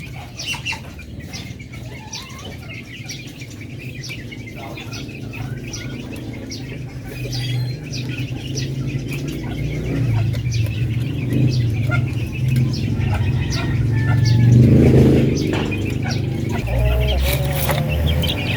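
Chicks and chickens of Darag and Parawakan breeds on a farm, steady chirping and clucking with wing flaps and rustling that grows louder and busier through the middle, with no voices.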